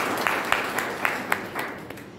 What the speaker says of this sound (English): Please give a wonderful round of applause for her, please.